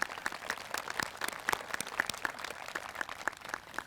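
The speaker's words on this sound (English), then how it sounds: "Let's give them a round of applause as well." Audience applause for school officers at an FFA farm breakfast, a steady patter of many hands clapping at moderate distance, fairly quiet and even throughout with no talk over it.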